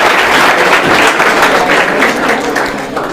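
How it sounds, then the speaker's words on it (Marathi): A crowd at a quiz event gives loud, sustained applause for a correct answer, dense clapping that stays strong before easing slightly at the end. "दादासाठी एकदा जोरदार टाळ्या होऊ द्या समोर"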